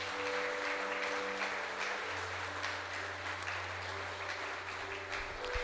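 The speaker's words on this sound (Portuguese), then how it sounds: "Quem compreendeu aí, aplaude ao Senhor Jesus." A church congregation applauds during a Holy Communion service, the broadband clapping steady and moderately loud throughout, over a low sustained organ or keyboard tone.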